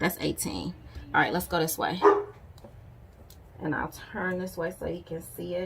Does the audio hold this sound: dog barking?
yes